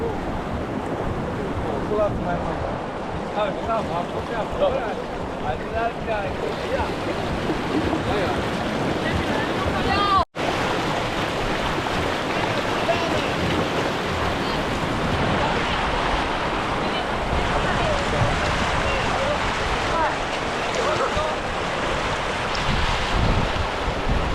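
Continuous rushing surf churns and hisses as salt-water waves pull back through the shore, broad and steady, with wind buffeting the microphone and a single sharp click midway.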